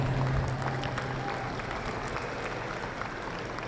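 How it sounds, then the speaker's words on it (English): Audience at a junior miniature Hereford cattle show applauding young exhibitors, dense steady clapping that starts loud and eases slightly, with a brief tonal hum at the start. "a round of applause"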